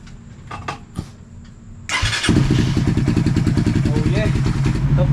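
A Raider f.i 150 motorcycle that has just had its water pump oil seal replaced is quiet at first, with a few clicks and knocks, then starts up and settles into a loud, close, steady idle with a rapid regular thrum.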